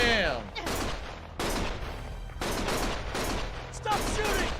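Gunfire in the video game Lost Judgment: several loud, dense bursts of shots at close range, sustained for seconds at a time with short gaps between them, with game voices mixed in.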